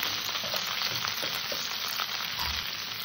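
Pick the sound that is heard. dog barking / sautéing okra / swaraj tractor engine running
sautéing okra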